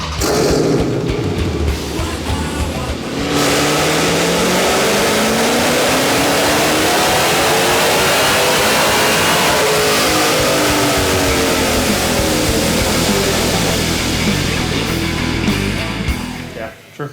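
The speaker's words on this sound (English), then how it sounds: "they're just getting the Challenger strapped onto the dyno" A Dodge Challenger with a 6.4-liter Hemi V8 roars hard on a chassis dyno, a loud sustained wide-open run whose pitch sweeps up then falls back, starting after a brief quieter idle.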